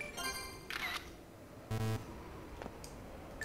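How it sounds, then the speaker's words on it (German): A camera shutter clicks in the video game Castlevania: Order of Ecclesia, a short sharp mechanical snap heard quietly among other faint game sounds. "Ich will dich fotografieren."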